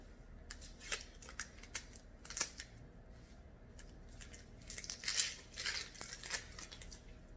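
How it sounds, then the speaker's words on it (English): An onion being peeled by hand in a home kitchen while making an omelet, with dry papery crackles and tearing rustles coming in short, irregular bursts, close and fairly quiet, without any talking. "Peel the onion."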